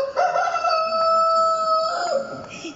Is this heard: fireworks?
no